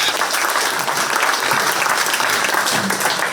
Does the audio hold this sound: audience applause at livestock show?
yes